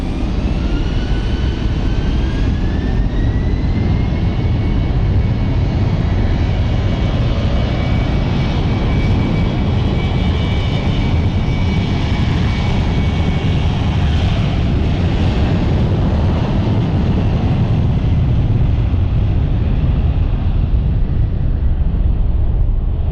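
A delayed passenger plane on the Amsterdam flight takes off from London City Airport, its engines giving a loud, sustained roar with a rising whine that holds throughout, heard near and alone.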